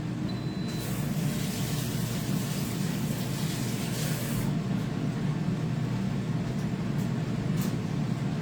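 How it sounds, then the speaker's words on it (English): Bacon cooks inside an air fryer with a steady, even fan roar and hiss that holds at a constant low level for the whole stretch, with no voices. "we got us some bacon in the air fryer"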